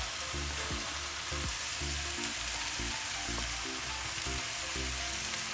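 Brinjal varaval frying in a pan gives a dense, continuous sizzle, with rhythmic low scraping strokes of a spoon stirring roughly every half second, close and steady with no talk.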